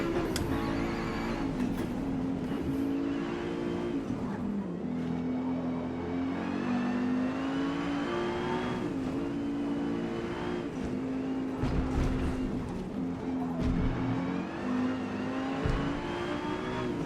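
A race car on the Nurburgring in Forza Motorsport, its engine droning loud and steady at high revs with brief dips and surges as it shifts and turns, continuous and close throughout.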